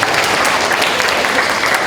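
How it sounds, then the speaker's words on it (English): Audience applause for a volunteer named Haley at a school presentation by a police officer, steady dense clapping filling the whole stretch, close and loud, with no voices over it. "How about a nice round of applause right from Haley?"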